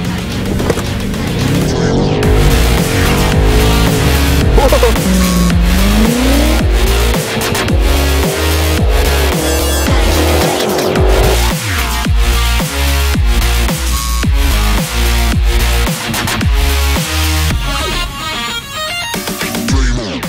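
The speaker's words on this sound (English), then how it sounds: "X5M launch control." Loud, sustained engine roar from a 2021 BMW X5M Competition performing a launch control start, the revs climbing and shifting across about twenty seconds with no talk over it.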